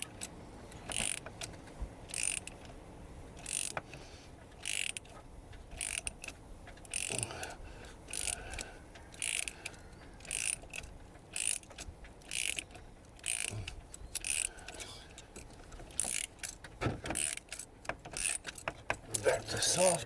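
A Timesert tool cold forms spark plug threads in a Triton V10 cylinder head, making bursts of close metallic ratcheting clicks at an uneven pace, with brief quiet gaps and faint voices in places.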